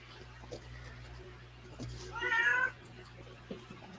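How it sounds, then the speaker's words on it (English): A big cat gives a single short meow midway through, fairly close, against a quiet indoor background with faint scattered knocks. "This is the big cat that was talking."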